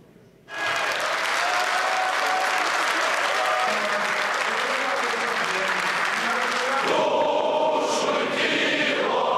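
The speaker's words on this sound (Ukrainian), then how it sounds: "Після цього аплодували і співали гімн." Parliament deputies applaud after a vote, a loud sustained wall of clapping from a large chamber crowd that continues steadily, with some voices rising toward the end.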